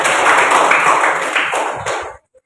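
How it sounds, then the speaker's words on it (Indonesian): A small group of students claps in a classroom in a short, dense burst that stops abruptly. "Mari kita tepuk tangan buat Isa."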